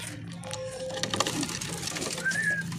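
Pigeons coo softly nearby in short calls, mixed with light rustling and background murmur.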